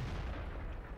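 An SU-152 tank destroyer's cannon fires on an IS tank in World of Tanks. A heavy, loud, sustained rumble of the blast fills the whole moment with deep low-end boom.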